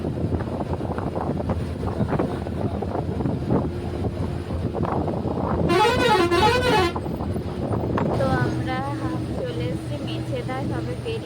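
A bus rumbles along a road in Medinipur, with engine and wind noise under people talking, and a loud warbling musical horn blares for about a second and then honks again in repeated patterns.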